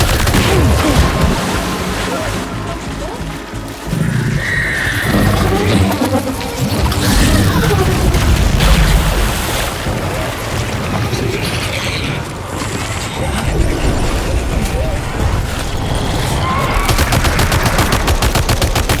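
Gunfire in Death Stranding 2 during a boss fight: rapid, sustained bursts of shots with mechanical clatter, loud and continuous over game ambience and music.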